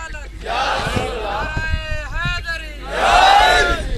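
A crowd at an Islamic religious gathering answers a slogan with a loud, drawn-out collective shout, rising twice, with someone speaking in between.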